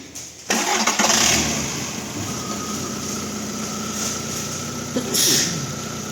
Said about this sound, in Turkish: Birazdan araca marş basacağız.